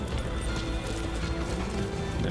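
Horse hooves clip-clopping in Metal Gear Solid 5: The Phantom Pain, a steady quick patter of hoofbeats layered over dense game ambience and mechanical noise.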